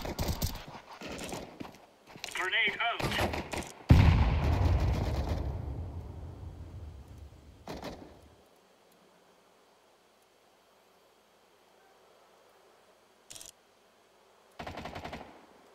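Counter-Strike 2 gunfire comes in several loud bursts of rapid shots in the opening seconds, followed by a long fading tail, near silence, and then two brief sharp bursts later on.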